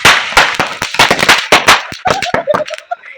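Firecrackers bursting at a Kali Puja night celebration, a rapid string of sharp, loud, close cracks and pops in irregular quick succession, followed by a few smaller pops with faint whistling tones.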